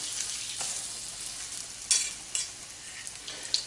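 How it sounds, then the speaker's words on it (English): Thin breaded steaks fry in a pan for a Chicago-style sandwich, giving a steady, fairly soft sizzle with a few sharper crackling pops near the pan, without talk. "from there we're going to cook these steaks up. Throw those in there."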